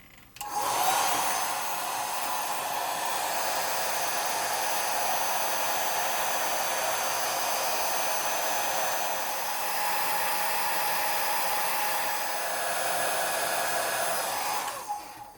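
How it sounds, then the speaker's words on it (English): A hairdryer blows steadily and loudly on a model ship for about fifteen seconds, a continuous whooshing roar with a brief start and stop at each end. "let's use the hairdryer here and see what happens when it dries up."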